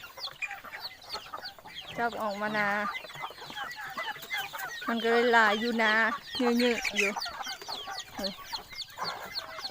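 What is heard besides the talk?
chickens clucking in a rice field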